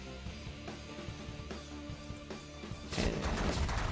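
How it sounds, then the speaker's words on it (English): Energy blasters firing in the space strategy game The Last Federation, heard as a fast run of quiet rhythmic zaps that swells into a louder, denser burst of blasts near the end. "we'll just fire the energy blasters at whatever"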